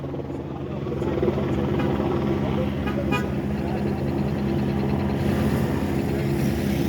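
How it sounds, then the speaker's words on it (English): A police helicopter drones steadily overhead at a serious crash scene on Seaver Street, Boston, a constant thrumming rumble with traffic noise and faint voices mixed underneath. "Got the helicopters in the sky waiting for the ground crew."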